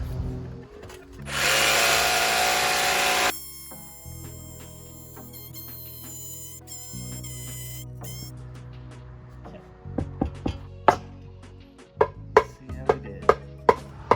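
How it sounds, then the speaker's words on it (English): A power saw, a jigsaw cutting wood siding, buzzes loudly and close for about two seconds, then quieter tool whirring follows, ending in a series of sharp knocks and taps on wood. "I'll just cut that with the jigsaw."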